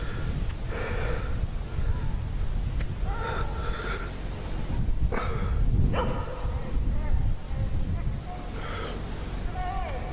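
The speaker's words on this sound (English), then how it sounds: "Sounds like the dog might be in pain." A dog named Rocky, apparently in pain, gives repeated strained yelps and snorting gasps in short bursts, heard at middle distance beneath a tense voice talking over it.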